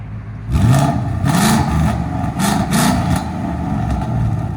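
Close-up, the closed-valve exhaust of a 2015 Ford Mustang GT 5.0L V8 gives several quick throttle blips in a row, each rising and falling over a steady muffled idle.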